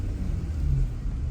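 Off-road vehicle engine rumbling low and steady while hill climbing on a Windrock trail, a close continuous drone with slight swells in loudness and no talking.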